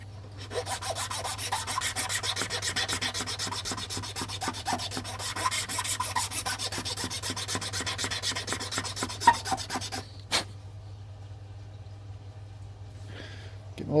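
Hand file rasping a button to smooth its taper and thin its bite zone, a close, steady run of quick scraping strokes for about ten seconds, then quiet with a couple of light taps.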